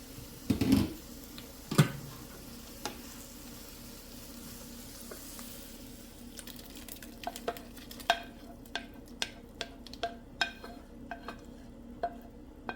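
Onions drop into a soup pot with a loud hiss and clatter, then settle into a quieter sizzle punctuated by scattered crackles and pops.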